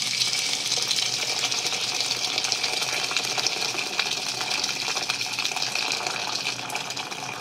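Boiling water, about 1.5 liters, poured from a kettle into a large pan at an outdoor summer cooking setup: a steady, continuous gushing splash lasting several seconds, close and fairly loud, with no talking.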